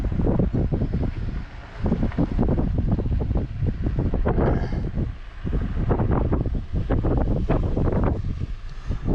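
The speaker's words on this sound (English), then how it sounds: "That wind is picking up, not surprised." Gusty wind roars loudly and continuously, rising and falling in surges, with no one speaking.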